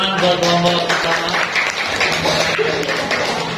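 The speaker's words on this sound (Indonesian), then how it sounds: "Tepuk tangan buat kelompok pertama." Applause for the first group at a school class session in Indonesia, a burst of clapping from a small crowd mixed with voices talking over it.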